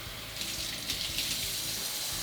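Water pouring steadily into gentian liqueur to dilute it, a soft continuous splashing stream, fairly quiet and close, no speech.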